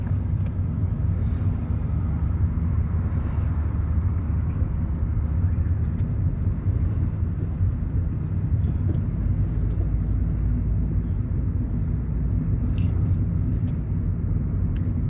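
A car drives through the streets of Addis Ababa with a steady, close engine and road rumble that does not let up, and nobody talks.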